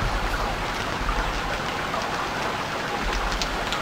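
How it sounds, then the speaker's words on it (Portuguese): Steady rain pours down in the survival game Stranded Deep, a constant dense hiss of drops hitting surfaces with no gaps or talk over it. "Então agora a chover"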